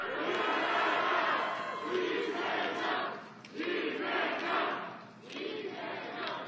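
A large crowd at Lee Jae-myung's presidential campaign rally in Chuncheon, Gangwon Province, shouts and cheers loudly and without pause, the roar swelling and dipping in waves.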